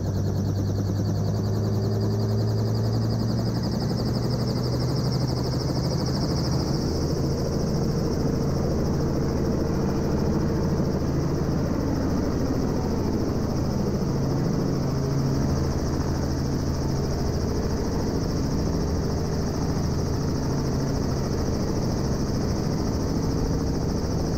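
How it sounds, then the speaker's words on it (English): A helicopter lifting off at Cape Crawford, its rotor and turbine running as a continuous loud, close drone with a steady whine and no pause throughout. "Lifting off once more, our pilot spins the chopper around"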